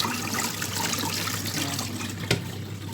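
An Imarflex mini washing machine spins with clean rinse water, producing a continuous sloshing, churning water sound with a low motor hum, steady and close, with one brief knock near the end.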